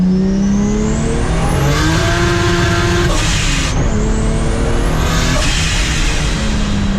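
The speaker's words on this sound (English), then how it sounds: "Those cars way too fast." Continuous loud engine roar from inside a BMW E30 under acceleration in second and third gear, with whooshes as other vehicles rush past quickly.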